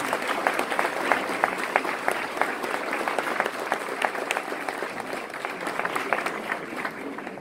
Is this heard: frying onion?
no